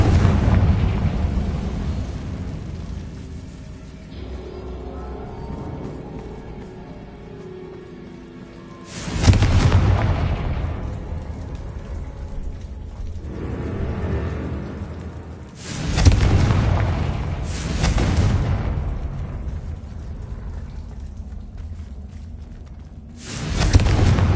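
Confringo blasting spells go off in a Hogwarts video game: several loud, booming explosions, one around the middle and two close together later, each trailing into a rumbling roar, with a low ambient drone between blasts.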